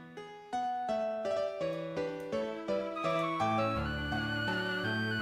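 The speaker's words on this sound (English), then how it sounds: "We have like the staccato violins" Short, detached staccato violin notes play in a bouncing rhythm, joined by lower sustained tones as the music builds, in an arrangement of Pokémon's Verdanturf Town theme.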